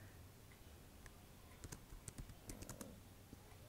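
Light typing on a computer keyboard while entering Python code: scattered soft key clicks, faint and close, in short irregular bursts over a quiet background.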